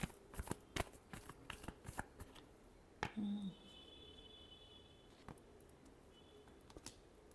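Tarot cards are shuffled by hand in quick, soft riffling bursts at close range, fairly quiet, followed by a few scattered taps and a faint tone.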